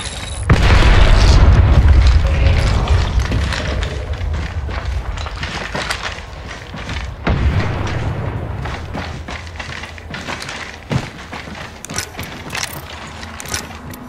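An Arc Star grenade detonating in Apex Legends, a loud deep boom that rumbles and decays, followed by scattered game impacts, clicks and mechanical noises over the remaining seconds.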